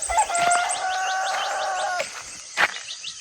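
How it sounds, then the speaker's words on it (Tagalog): Birds chirp and call in a forest, a clear whistled song with a rapid series of sharp tweets over quiet surroundings, fairly close, plus a brief rustle near the end. "mga huni ng ibon, tilaok ng manok, yung mga kuligligan sa kagubatan"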